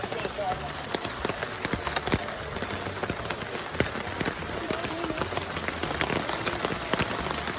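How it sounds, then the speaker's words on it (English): Heavy rain drums on a Coleman camping tent, a dense, continuous patter of drops with sharper taps throughout, close and steady. "Raining pretty hard."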